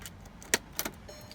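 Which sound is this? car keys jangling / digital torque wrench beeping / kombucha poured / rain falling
car keys jangling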